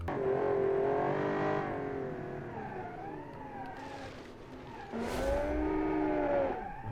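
A classic Italian sports car in BeamNG.Drive revs and slides around a track, its engine note rising and falling with tire squeal through the slides, close and loud with no talking.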